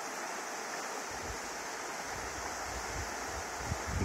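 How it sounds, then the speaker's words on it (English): The Trinity River near Lewistown, California, flows with a steady broadband rush of moving water, faint and continuous, with low rumbles underneath and no voices. "We're on the Trinity River, close to Lewistown."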